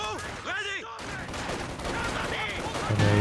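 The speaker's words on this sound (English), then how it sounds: "And a mortar coming in for Sun Moon, as well as a machine gun" Machine gun and small-arms fire crackle amid battle effects in the WWII strategy game Company of Heroes 2, quick bursts layered over a busy mix with a voice-like tonal call near the start.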